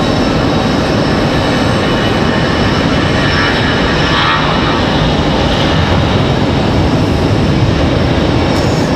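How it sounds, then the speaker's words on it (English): A United airliner on the runway at Raleigh-Durham International Airport makes a loud, continuous broadband engine roar, steady and unbroken throughout, with no voices. "Looks like United's up there ready to go as well. They're hitting the runway there again."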